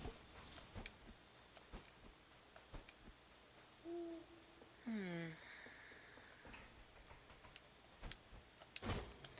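Owl hooting in the video game Death's Door, a short run of soft descending hoots standing out once in the middle against a quiet game soundscape with scattered clicks and small effects.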